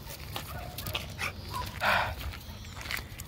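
A dog, a stray found and brought along with another dog, makes short whimpering yips and a brief bark at moderate distance over steady low background noise, with no talk.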